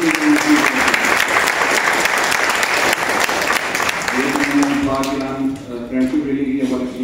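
Audience at an anniversary seminar in a public library hall clapping loudly for several seconds, then thinning out as a voice comes in and continues talking.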